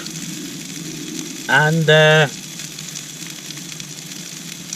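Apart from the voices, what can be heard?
food sizzling on a camping stove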